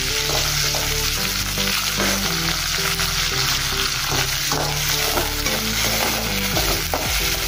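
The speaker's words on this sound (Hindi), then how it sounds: "अब इसमें हम प्याज डालेंगे और हरी मिर्च भी डाल देंगे।" Onions and green chillies fry in a hot pan of oil with mustard seeds and cumin for a mixed brinjal, potato and zucchini dish, giving a steady loud sizzle with repeated stirring scrapes throughout.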